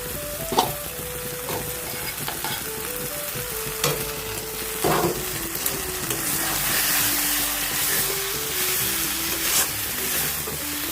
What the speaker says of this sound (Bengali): এখন আমি আলুটাকে দিয়ে আরও একটু ভালো করে মশলাগুলোর সঙ্গে ভেজে নেব।